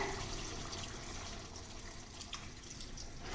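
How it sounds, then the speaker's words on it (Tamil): Water poured from a vessel into a pressure pan holding food for a gravy, a steady close splashing stream lasting a few seconds with no talk. "கொஞ்சம் தண்ணி விடுறேன்"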